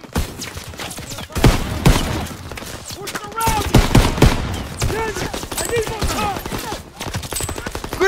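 Rapid bursts of World War II gunfire in the video game Call of Duty: WWII, with sharp repeated shots and rattling automatic fire coming in clusters, mixed with shouted soldier voices and battle noise.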